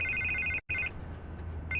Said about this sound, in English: I can't get the phone to stop ringing.